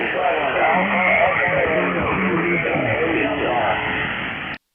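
Crowded amateur radio band heard on a Texas ham station: several overlapping voices and carriers jumbled together through static, steady and loud until cutting off abruptly near the end.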